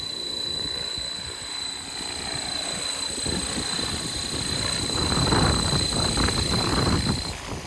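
A Blade Fusion 360 RC helicopter hovers and flies with a steady, close rotor whir and motor whine that swells slightly toward the end, heard alone without talk.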